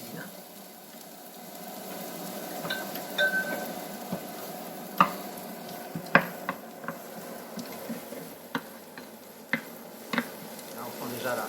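Shallots sweat in a pan on an induction hob, giving a soft, steady low sizzle with a few sharp clicks and scrapes of stirring scattered throughout.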